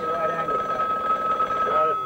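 An old telephone bell rings steadily with a bright, continuous metallic tone throughout, fairly loud and close, with a voice talking over it.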